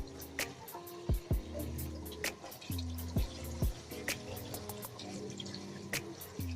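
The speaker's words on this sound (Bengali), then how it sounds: "পটলগুলো এক এক করে ধুয়ে নেব।" Pointed gourds are washed one by one in water, with soft splashes and drips and a few brief, faint sloshes at an irregular pace.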